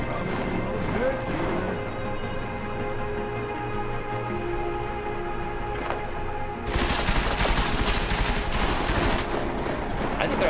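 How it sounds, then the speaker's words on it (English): Rapid bursts of gunfire crackle through a firefight in the video game Deus Ex: Mankind Divided, with a dense, loud volley breaking out partway through over a steady background of game ambience and music. "I think they're actually shooting at me."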